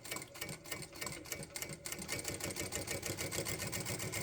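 A Jack A5E-A industrial sewing machine stitches at a 4.5 stitch length, a steady fast rhythmic whir of needle strokes running continuously and close up, with a brief pause near the start before settling into an even run.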